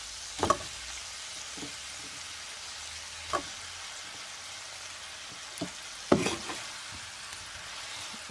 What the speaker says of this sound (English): I'm gonna also add my broccoli and